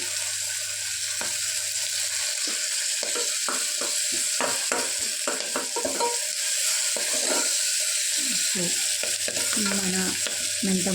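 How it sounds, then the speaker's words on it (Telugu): A bunch of fenugreek leaves frying with ground paste in a pan, with a steady sizzle throughout and repeated scraping and clacking of a spoon as the mixture is stirred, close and fairly loud. "కూర కూడా పచ్చి వాసన పోయేంత వరకు ఫ్రై చేసుకోవాలి"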